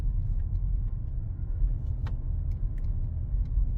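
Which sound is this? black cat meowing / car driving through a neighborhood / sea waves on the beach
car driving through a neighborhood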